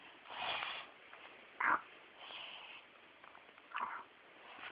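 A small child snores softly at close range, three or four breathy, rasping snores spaced roughly a second and a half apart, quiet and unhurried with no talking.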